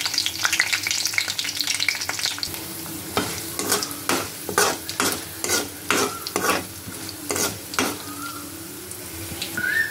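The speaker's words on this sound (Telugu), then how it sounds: "తాలింపు ఫ్రై అయింది కదండి" Tempering spices crackling and sizzling in hot oil in a kadai while making a pickle, with repeated stirring scrapes in a steady rhythm, close and fairly loud, without any talk.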